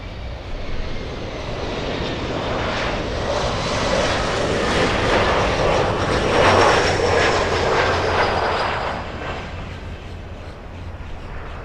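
Atlas Air jet airliner arriving at Miami International Airport, a loud, broad engine roar that swells over several seconds as it passes close, then slowly fades.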